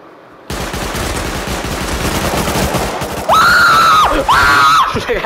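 Rapid video game gunfire in a Counter-Strike style raid, a dense loud burst of shots running several seconds, followed by two rising and falling electronic whines near the end.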